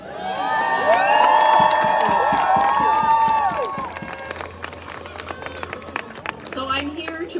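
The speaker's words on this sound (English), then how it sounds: "This is an awesome crowd." A large crowd at a Vaccine Choice Canada rally cheers, whistles and claps loudly, swelling into a sustained roar before thinning to scattered applause and shouts.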